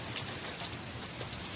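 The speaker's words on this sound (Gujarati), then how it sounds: "જો પવનની આરે વરસાદ છે." Rain driven by wind during a storm over farmland, a dense, even hiss of falling drops that stays constant and fairly loud, with no voices.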